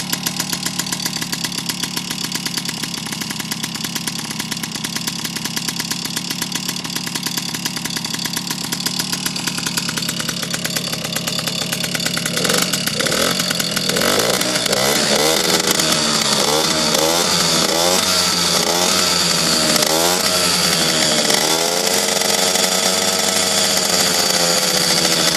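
A Peugeot 103 MVS moped engine runs with its exhaust pipe, a loud, buzzing two-stroke drone held steadily, then revved and wavering in pitch repeatedly in the second half.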